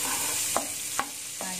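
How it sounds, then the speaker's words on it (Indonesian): Onions stirred and frying in a pan, a steady sizzle broken by three distinct scraping strokes of the spoon spaced about half a second apart, close and moderately loud. "kita masukkan bawang bombaynya, kita aduk sampai dia harum dan warnanya berubah ya"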